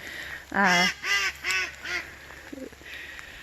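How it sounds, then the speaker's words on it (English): Ducks in a spring permaculture food forest garden quack in a quick run of four loud, close calls, followed by softer quacks over a steady outdoor background hum. "those are the ducks"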